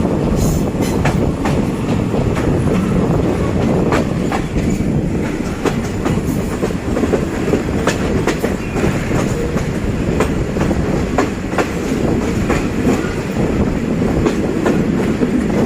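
Steady, loud rumble and rhythmic clickety-clack of the Thaksin Special Express 38 train running near Hat Yai Junction, heard from inside a carriage with continuous wheel and rail noise throughout.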